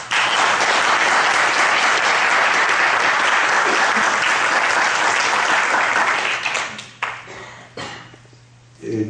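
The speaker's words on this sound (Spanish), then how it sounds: "yo quiero pedirle a todos los asistentes, dada la obra monumental que viene realizando el Fondo Editorial de un aula, Jairo Osorio, un gran aplauso para" Loud, sustained audience applause fills a hall at a book presentation, steady dense clapping for about six seconds before thinning into scattered claps and a low hum.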